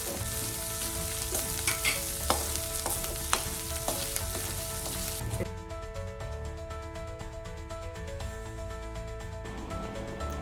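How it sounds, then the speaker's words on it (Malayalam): Ginger garlic paste fries in a pan for a mutton curry, a dense sizzle broken by repeated clicks and scrapes of stirring, and the hiss drops noticeably quieter about halfway through. "ഇഞ്ചി വെളുത്തുള്ളി പേസ്റ്റ് ഇടാം. ഒരു ലൈറ്റ് ബ്രൗൺ ആവുന്നത് വരെ ഇളക്കിക്കൊണ്ടിരിക്കും."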